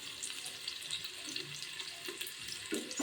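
Sambar onions frying in hot oil for mutton kurma, a steady crackling sizzle close by with occasional brief stirring scrapes and louder bursts near the end, no voices.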